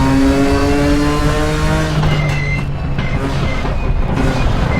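A Nissan Skyline R32 GT-R laps Bathurst in a racing simulator, its engine revving loudly with rising and falling pitch as gears shift and the car accelerates, close and alone without talk.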